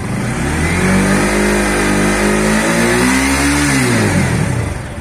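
A Bajaj Pulsar NS160 BS6 motorcycle engine revs up close and loud, rising in pitch to a peak and then dropping back toward idle, with no talk over it.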